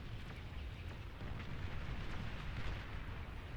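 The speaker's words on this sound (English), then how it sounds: "Okay, so he bombs that position," Dense rumbling explosions from a T2 bombing run in the strategy game Beyond All Reason, a continuous roar of blasts with no clear separate hits and no talking.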